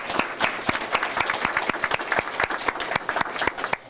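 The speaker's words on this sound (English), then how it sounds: "let's give a round of applause to all teachers in case I left any of you out" A room of people clapping for teachers at a community awards event, individual claps distinct and fairly close, a lively uneven patter that carries on steadily.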